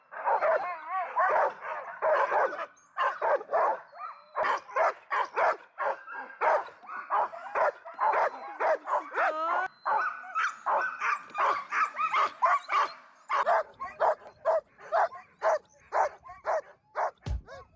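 Many husky sled dogs bark and yip in a dense, continuous chorus at a sled-dog yard near Rovaniemi, Finland, the sharp barks overlapping loudly for the whole stretch with a few whimpers mixed in.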